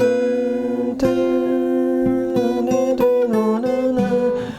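A plucked guitar melody played fingerstyle, with a low bass note under a flowing line of higher notes, clear and close, no voice.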